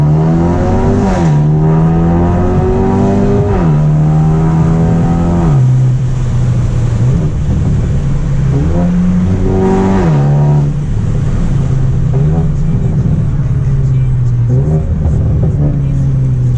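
A Mercedes A35 AMG engine with Stage 2 remap and downpipe revs hard several times, pitch climbing and dropping between shifts, loud and close throughout.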